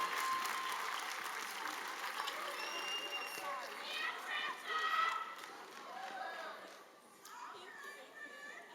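Graduation ceremony crowd applauding, a dense even patter of many hands clapping that swells and then tapers off, with scattered voices and cheers mixed in, heard from a distance.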